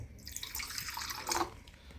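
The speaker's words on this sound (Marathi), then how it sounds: "हे पातेलीत टाकलं थोडं पाणी" Water splashes and trickles into a cooking pot at a home kitchen, a brief close, bright pour lasting about two seconds.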